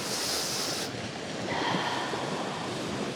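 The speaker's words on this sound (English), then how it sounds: "hopefully the waves in the background are giving you a little added bonus of meditative rhythm" Ocean surf washes steadily as a broad, continuous wash of noise with some wind on the microphone, with no talking over it.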